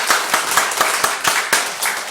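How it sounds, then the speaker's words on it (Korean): Church congregation claps together in a steady rhythm, roughly nine even beats over a continuous wash of hand noise filling the room. "박수 한번 하겠습니다."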